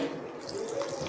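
A brief, steady stream of water pours into a mixer jar for date and tamarind chutney, close and moderately loud.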